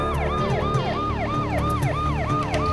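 An ambulance siren wails in a fast, repeating up-and-down pattern, loud and close, cycling continuously over the rumble of passing traffic.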